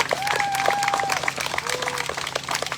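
A crowd applauds at an honor ribbon ceremony for a military veterans' honor ride, with steady clapping and scattered whistles and cheers running throughout.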